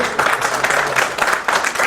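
An audience at an FPI party activists' gathering in Boston claps in quick, moderately loud bursts of applause, with a faint voice underneath.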